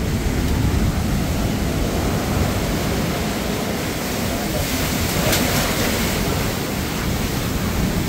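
Steady roaring surf fills the whole stretch, a broad wash of crashing waves close by with constant rumble and no pauses.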